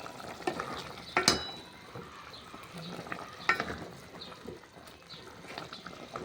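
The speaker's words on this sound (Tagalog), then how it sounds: "Haluin natin para huwag mamukaw ang dugo." Dinuguan, a Filipino pork blood stew, bubbles on the boil as a spoon stirs through it, with several sharp metallic clanks against the pot over soft bubbling.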